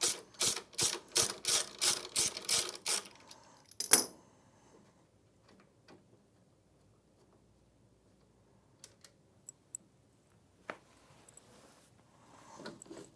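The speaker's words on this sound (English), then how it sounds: "Loosen the bolt, remembering to support the brush." A bolt being loosened on an IKON buffer machine: a fast, even run of loud ratcheting clicks for about four seconds ends in a sharp knock, followed by near silence broken by a few faint taps.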